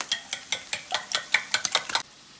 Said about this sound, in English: And now we're gonna give this a good whisk.